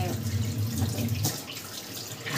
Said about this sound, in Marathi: आता आहे सध्या पाणी भरपूर नळाला चालूच आहे हे बघा